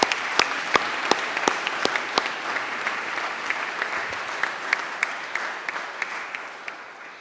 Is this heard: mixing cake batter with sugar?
no